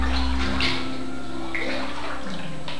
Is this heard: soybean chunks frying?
no